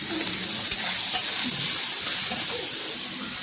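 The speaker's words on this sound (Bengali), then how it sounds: "আপনাকে সোয়াবিনটা দুটোই ভেজে নিচ্ছে একসাথে" Soybean chunks and potatoes fry together in a pan, giving a continuous, moderately loud sizzle and hiss with a few soft stirring knocks.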